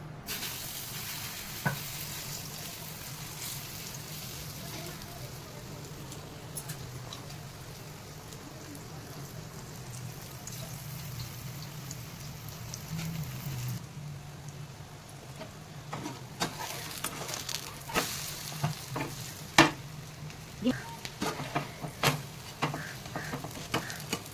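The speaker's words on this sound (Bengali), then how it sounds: "আমি তেল দিয়ে দিয়েছি। আমি এবারে ভাজতে শুরু করবো।" Oats masala paratha batter fries in hot oil with a steady, close sizzle. In the second half a utensil adds scattered scrapes and taps over the hiss.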